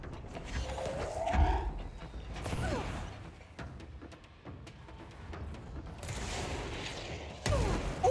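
Rocket launcher fire in the video game Control: heavy explosive blasts and rumbling booms burst out among creaking, roaring game noise, loud and close, with no talk.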